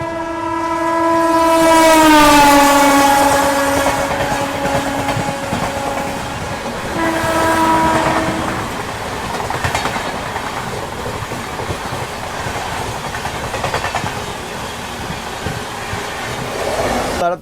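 Amrit Bharat Express train passing close by, a loud sustained horn blast sliding downward, a second shorter horn, then steady rumbling and clattering wheels as the coaches roll past.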